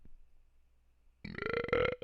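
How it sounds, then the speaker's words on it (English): A single loud, close burp that starts abruptly after a near-silent moment and rumbles on for under a second. "I think I got a burp on hand."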